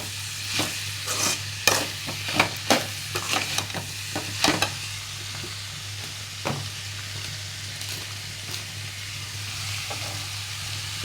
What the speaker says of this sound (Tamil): உப்பு போட்டு ஒரு பரட்டிடலாம்.